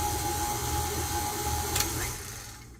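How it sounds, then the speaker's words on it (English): An electric mixer creams softened butter and sugar together for ginger snap cookie dough, its motor holding a steady, even whine close by that fades slightly at the very end. "we're going to cream that together"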